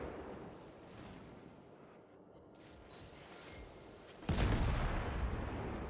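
Naval gunfire in World of Warships, with armor-piercing shells fired between warships: a low, steady rumble gives way to one sudden loud, close blast that rolls on into a sustained roar.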